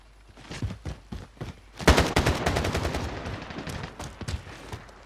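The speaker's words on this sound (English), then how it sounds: "Is that somebody shooting at you?" Gunfire in the video game Call of Duty: Modern Warfare: scattered single shots at first, then a loud close burst of rapid automatic fire and several shorter bursts in quick succession, with no talking.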